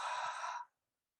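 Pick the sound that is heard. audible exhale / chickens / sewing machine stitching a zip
audible exhale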